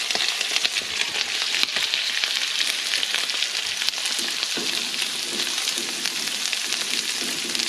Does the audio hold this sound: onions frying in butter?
yes